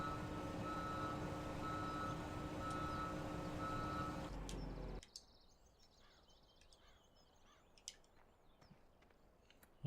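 Truck reversing beeps in Farming Simulator 17: a steady, evenly spaced electronic beep repeats over a loud engine drone for about five seconds, then cuts off, leaving a quiet outdoor scene with faint birdsong.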